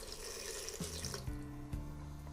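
Hot water trickles and splashes into a cup of spices and smoked paprika, a faint, close liquid pour with small gurgling shifts over a couple of seconds.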